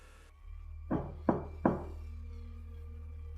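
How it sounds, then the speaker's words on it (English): Three soft, evenly spaced knocks land on a bedroom door in a quiet room at night, followed by a low, still hum. "Soft knocking on my bedroom door."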